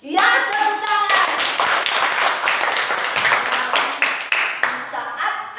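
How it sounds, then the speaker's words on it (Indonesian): Schoolchildren in a classroom break into dense, loud group clapping right after a voice, and the applause holds steadily for several seconds before thinning out near the end. "Ya, tepuk tangan."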